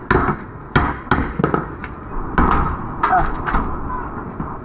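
Hammer blows strike repeatedly while a leaf-thatched kitchen roof is being replaced, giving sharp irregular thuds and knocks, some in quick pairs, close and loud, with people talking in between.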